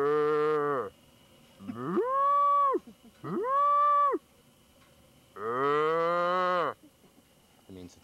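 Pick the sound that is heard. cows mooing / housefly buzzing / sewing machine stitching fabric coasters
cows mooing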